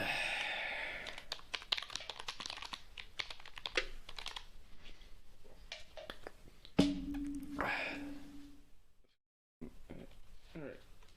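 Someone types steadily on a computer keyboard, with rapid clicks running through the first several seconds. A sudden thump and a brief hum follow, and a voice is heard faintly in the background.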